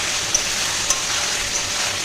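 Pui shak (Malabar spinach) fries in a pan with salt and turmeric, releasing water; a steady, close hiss with a couple of faint ticks.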